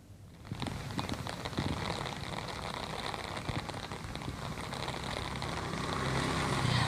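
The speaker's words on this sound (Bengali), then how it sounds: "তবে বৃষ্টি কিন্তু লাগাতারভাবেই চলছে।" Steady rain falls continuously at night during a cyclone on the coast, a dense hiss of drops striking surfaces that grows slightly louder over several seconds, with little wind and no voices.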